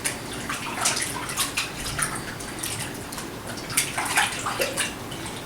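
Water from a tap runs steadily into a sink while contact lenses are rinsed by hand, a soft continuous splash with light dripping and spattering, close by and without talk.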